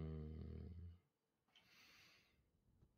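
A man snores in a GTA 5 roleplay game, one loud, deep, rumbling snore up close that breaks off abruptly, followed by a fainter breathy snort.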